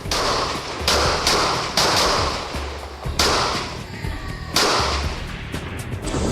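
Heavy gunfire from a shooter, with loud individual shots cracking roughly every second and a half over a steady, noisy background rumble.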